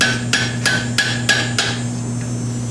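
A hammer striking during crimping work, five sharp metallic blows in an even rhythm followed by a lighter tap, close and loud over a steady electrical hum.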